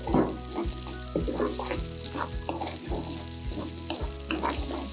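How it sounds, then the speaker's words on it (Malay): Corn kernels stir-fried with onions in a pan sizzle and crackle steadily, with repeated scraping stirs of a spatula against the pan, close and continuous with no talk. "Sekarang masukkan isi jagung. Kacau sekejap."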